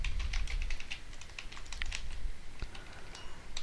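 Rapid, continuous keystrokes on a computer keyboard while writing Python code for a number guessing game, close and fairly loud, with no talking.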